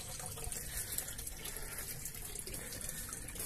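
Clear spring water at the Indipasha Thracian sanctuary runs steadily with a continuous soft splashing rush, close but faint, with no voices.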